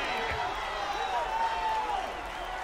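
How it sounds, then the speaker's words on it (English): Arena crowd at an NBA 2K League esports match roaring and cheering after a made three-pointer, a sustained moderate swell of voices heard from a distance with some whoops. "And there's the crowd."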